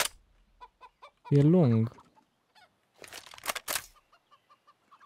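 Chicken clucking in a first-person shooter video game, a loud drawn-out squawk followed by sharper bursts, with players talking over the game sounds around it.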